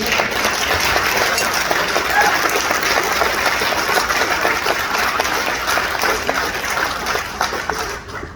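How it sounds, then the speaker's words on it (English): Sustained applause from a large audience, a dense steady patter of clapping that fades slightly at the end. "And that's worth another round of applause."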